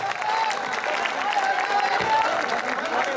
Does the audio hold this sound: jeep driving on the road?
no